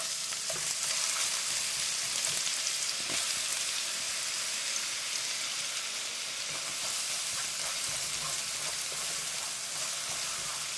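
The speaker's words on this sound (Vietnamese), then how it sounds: "Cho vào chảo 2 muỗng canh dầu. Và mình cho hết cái phần hành tím, tỏi băm còn lại vào" Steady, dense sizzle of shallots and minced garlic frying in hot oil, crackling evenly throughout with a few faint clinks and no talking.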